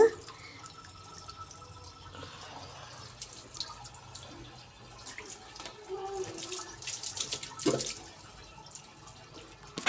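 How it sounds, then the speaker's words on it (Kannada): Water gushes and splashes steadily from a hose, with spatters and a few drips, fairly close, with faint background noise. "ಈಗ ಪೈಪ್ ಹಾಕ್ಬಿಡ್ತಾಯಿದ್ದೀನಿ ನೀರು ಬಂದಿರೋದಕ್ಕೆ"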